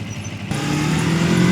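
A 2021 Yamaha MT-25 motorcycle on a test ride is held in gear and pulled hard. After a brief quiet moment, its engine bursts in loudly and close, the revs climbing in pitch as it accelerates.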